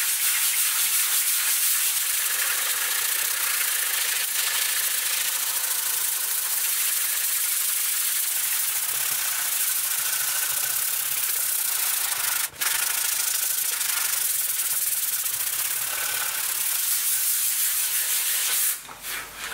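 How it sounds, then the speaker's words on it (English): Steady scratchy rubbing of hand sanding a DIY guitar kit with a soft foam block, continuous strokes blending into one another, close up, with a brief knock near the end. "this is a sanding block, one of these foam ones, these squishy ones"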